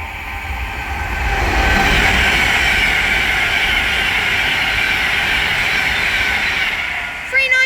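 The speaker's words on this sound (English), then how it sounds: "down there is an Avanti West Coast Class 390 Pendolino, working service from London Euston to Liverpool Lime Street." An Avanti West Coast Class 390 Pendolino passes on the West Coast Main Line at Bletchley, a steady loud rush of wheels and wind building and holding for several seconds before a brief sharp change at the end.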